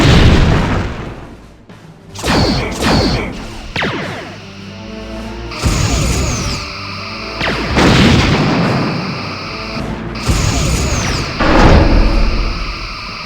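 In the Star Trek: Bridge Commander space game, torpedoes strike an enemy power plant, a series of heavy, booming explosive impacts spaced a few seconds apart, each with a rumbling tail that dies away before the next hit.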